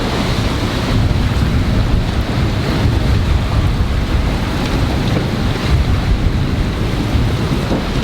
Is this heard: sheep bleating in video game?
no